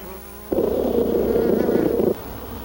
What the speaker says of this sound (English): A short time later, our saucer is filled with bees.